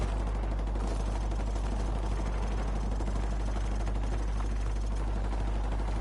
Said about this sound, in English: Hover around here so it triggers the game bringing in the helicopter